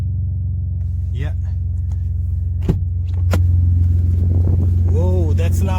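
A BMW E46 idles with a deep, steady low rumble through its new exhaust, up close. The rumble swells a little louder partway through, while a few voices talk over it.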